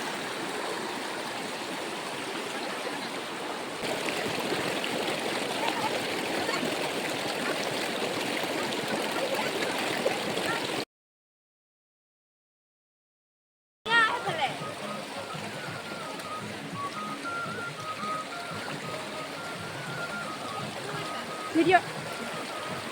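River water churning with waves gives a steady, loud rushing wash that fills the clip, broken by a brief total cutout near the middle before the flowing noise resumes.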